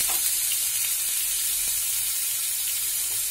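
Ginger paste and a pinch of salt fry in a pan for a Rajma masala, producing a loud, dense, constant sizzle up close with no breaks and no voices.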